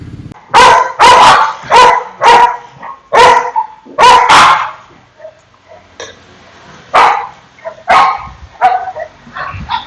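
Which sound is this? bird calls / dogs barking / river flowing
dogs barking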